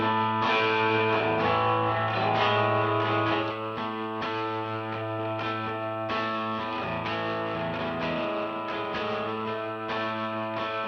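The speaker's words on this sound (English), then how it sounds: "I could do the same thing opposite with the distortion track." A heavily distorted electric guitar plays sustained, buzzing chords at a steady level throughout, with a dense, gritty tone.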